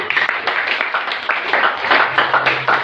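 Steady audience applause at a Swahili church sermon, dense clapping from a crowd sustained throughout with a few brighter bursts, close and fairly loud.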